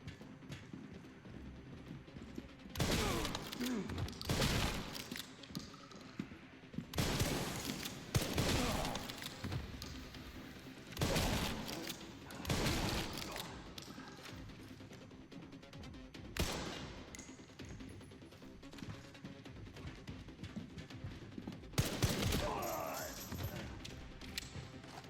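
Rapid bursts of gunfire, some of them machine-gun fire, ring out in Resident Evil 9 Requiem, loud and repeated across the stretch with dense firefights between quieter gaps.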